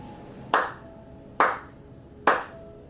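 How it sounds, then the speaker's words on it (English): Three sharp, deliberate hand claps in a Shinto prayer at home, evenly spaced almost a second apart, each crisp and close with a brief ringing decay into quiet. "Praying to Sugot and making 3 hand claps."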